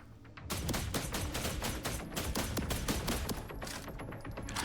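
Rapid gunfire in The Last Caretaker video game, a dense burst of sharp shots fired in quick succession, loud and close, continuing almost without a break.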